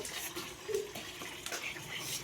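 Water splashes and runs steadily from a tap, fairly faint, with occasional clatter of objects being handled.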